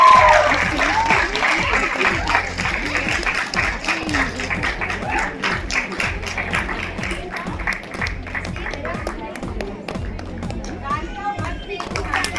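An audience claps at an all-India Bharatanatyam dance competition, a sustained, dense round of applause with crowd noise and children's voices mixed in, while a voice speaks over it.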